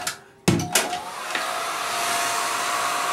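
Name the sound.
hair dryer warming a vinyl figure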